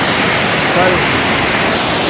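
A river or waterfall rushes loudly and continuously near Eloxochitlán, Oaxaca, swollen in the October rainy season, a dense, steady roar from close by.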